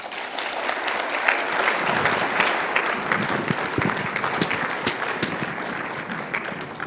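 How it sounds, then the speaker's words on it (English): Steady, dense audience applause after a keynote at a conference welcome session, a sustained wash of many hands clapping that holds evenly throughout. "I think we can give a more effusive round of applause"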